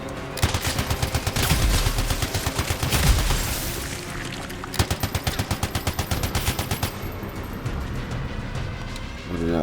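Rapid automatic gunfire in the video game Anthem, rattling out in long, fast, loud bursts of evenly spaced shots with brief pauses between volleys.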